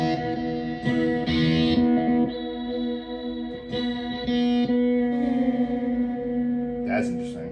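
Electric guitar played through a Donner Arena 2000 multi-effect pedal with amp modeling, giving a sustained, chorus-washed and distorted tone. Notes ring steadily, with fresh strums breaking in near the start, in the middle and near the end.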